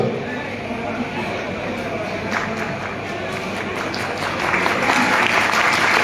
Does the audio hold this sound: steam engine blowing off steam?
no